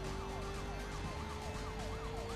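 Police car sirens wail in Need for Speed Most Wanted as backup units arrive, several overlapping rising-and-falling tones sounding steadily over a low rumble of engines and road noise, with no voices.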